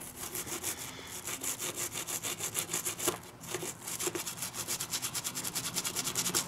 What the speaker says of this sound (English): And you just keep scrubbing it.